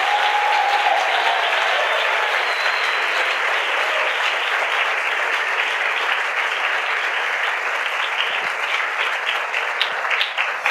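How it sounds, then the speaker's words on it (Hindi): Loud, sustained applause from a church congregation clapping for the Lord, dense and continuous for about ten seconds, with no one speaking over it. "क्या हम प्रभु के लिए जोरदार ताली बजा सकते हैं?"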